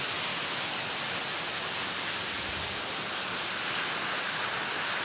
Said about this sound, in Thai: อยู่ท่ามกลางน้ำตกเล็กๆนะครับตอนนี้